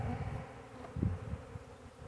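Honey bee swarm buzzing in a steady low hum, fairly close but quiet, with no voices over it.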